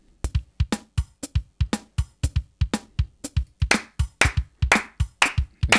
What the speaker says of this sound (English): It's in time with the claps, but we don't need the claps